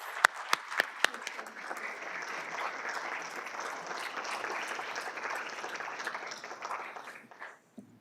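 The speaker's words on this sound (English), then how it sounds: "Please give Deputy Attorney General Monaco another round of applause for her opening remarks." An audience applauds Deputy Attorney General Monaco after her opening remarks at a commemorative anniversary event, with a few sharp early claps swelling into a full, steady round of clapping that fades out at the end.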